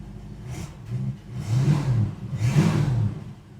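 A 1973 Ford Maverick engine running rough with possible carburetor trouble, idling unevenly and rising in two revs, close and fairly loud, no voices.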